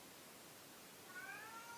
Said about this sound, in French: qu'il arrête de miauler comme ça